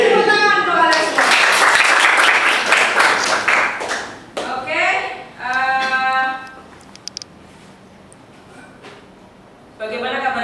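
A school class of pupils applauding together, loud rapid clapping close by for several seconds, then a second shorter burst, with a teacher talking between and after.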